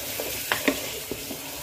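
Ginger garlic paste frying in a pan with spices for mutton liver, giving a soft steady sizzle with a few brief clicks and stirring scrapes, no voices.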